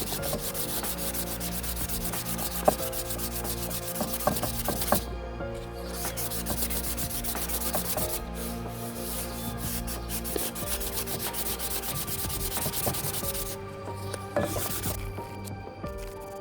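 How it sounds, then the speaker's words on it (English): Light grit sandpaper rubbing over a rusty metal medieval buckler: continuous, close, scratchy back-and-forth strokes with a few brief pauses and occasional small knocks. "I'm gonna try to just go with the lighter grit sandpaper. Take everything off."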